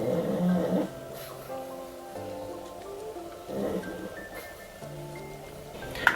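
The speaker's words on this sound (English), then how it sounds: "if you guys hear snoring, it's my dog because he sleeps under my bed" A pug sleeping under a bed snores in slow, low rumbling breaths, each snort lasting about a second with quieter gaps between, close by in a quiet room.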